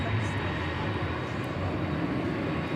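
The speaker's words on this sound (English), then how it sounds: "we've got Flight 80 from London Heathrow coming up, circling around" Airliner on Flight 80 from London Heathrow circling in on approach to DFW Airport at night, a steady distant broadband engine roar that holds evenly throughout, with no break.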